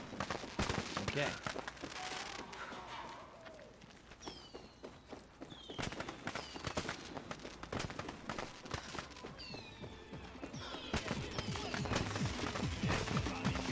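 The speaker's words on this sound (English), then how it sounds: "Why am I still hearing fireworks?" Fireworks popping and crackling in a video game, scattered bursts behind steady footsteps and clip-clop sounds, moderately faint and continuous through the scene.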